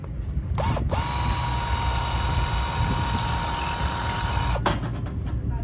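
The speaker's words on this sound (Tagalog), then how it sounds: "Tapos after natin natin yung mounting, didrill na natin." A power drill whines steadily for about four seconds while boring a mounting hole for a circuit breaker box, loud and close, with a brief start and stop at either end.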